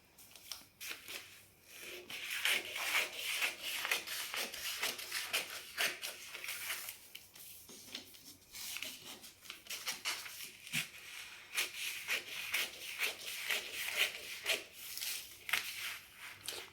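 Scissors cutting through blouse fabric for a four-tuck blouse, a long run of steady, close crunching snips and rustling cloth with brief pauses between strokes.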